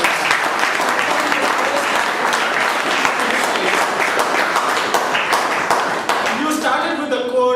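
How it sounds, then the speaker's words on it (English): A meeting audience at a speech evaluation session applauds in a loud, sustained round of dense clapping that fills the whole clip, with a voice starting to speak as it fades at the very end. "everyone, please give him a thunderous round of applause"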